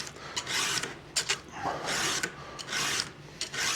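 A round file rasping across chainsaw chain teeth during sharpening, a steady series of close, gritty strokes with short pauses between them.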